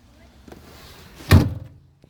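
A 1977 MGB GT 1.8 boot lid shuts with a single close, solid thunk after a quiet moment, a faint knock following just after.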